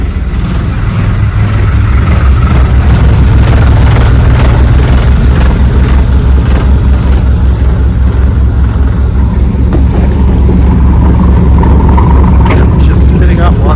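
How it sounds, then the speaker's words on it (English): Twin inboard engines of a Bayliner 3288 boat run steadily after start-up, a loud continuous low rumble filling the whole stretch with constant level. "So I haven't started this boat in months as I've been working around the boat."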